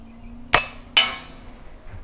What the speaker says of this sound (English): I'm going to pick up the Henry. We're going to start shooting it.